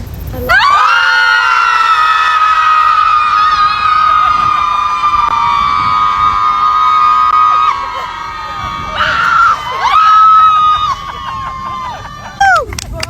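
A group of people screams together in a public setting, a sustained, loud, high-pitched chorus of voices lasting several seconds, then breaking into a second burst of yelling and whoops.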